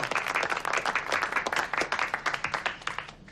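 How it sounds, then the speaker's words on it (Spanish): A small group claps to greet the arrival of a star, a brisk round of applause whose separate hand claps grow clearer and sparser as it tapers off. "¡Un aplauso, señores! ¡Un aplauso! ¡Ha llegado nuestra estrella!"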